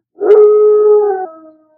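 A human voice imitating a dog's howl: one loud, sustained tonal howl lasting about a second that holds a steady pitch and then drops off abruptly, heard alone and close up.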